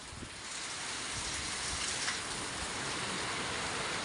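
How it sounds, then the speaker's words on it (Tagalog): Light rain easing off, a soft even hiss of drops falling outdoors that holds steady and faint through the clip. "Kaya medyo tumitila namang konti ang ulan"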